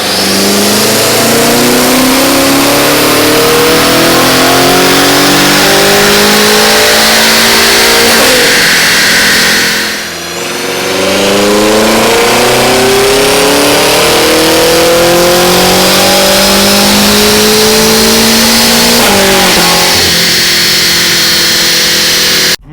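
A powerful BMW M5 Competition engine with factory sport exhaust, tuned to about 700 wheel horsepower, revs hard through repeated gear climbs, its loud exhaust roaring and rising in pitch, with a brief dip between pulls.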